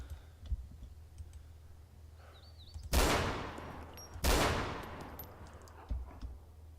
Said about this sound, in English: They like to hide in those trees and shoot up at us